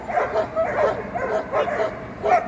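A German Shepherd at a dog show gives a series of short, fairly close barks and yips in a quick uneven rhythm, with a faint murmur of other sound behind them.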